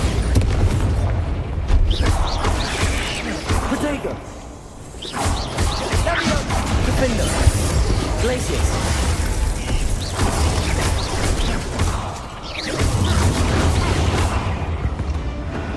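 A Bombarda blasting spell goes off in the Hogwarts Legacy video game, a booming burst set within dense, continuous game effects and mechanical clatter that fills the whole stretch, with brief dips around the middle and near the end.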